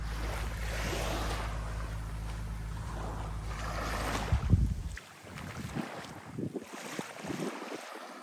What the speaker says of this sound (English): So it's a nice long beach.